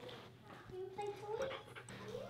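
A dog, found stumbling around at a Taco Bell, pants and whimpers softly at close range in quick rhythmic breaths while people talk over it throughout.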